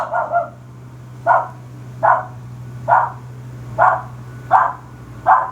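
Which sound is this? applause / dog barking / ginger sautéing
dog barking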